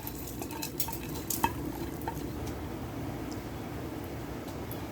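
Poha chivda roasting over a flame in a pan while being gently stirred: a soft, continuous frying hiss with light scraping and an occasional clink of the utensil, fairly quiet, with no speech.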